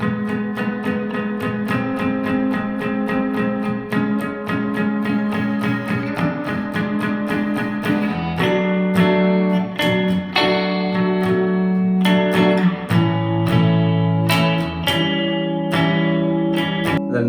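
Electric guitar strumming the chord section of a song, rhythmic repeated chord strums with clear sustained tones, played alone without talk.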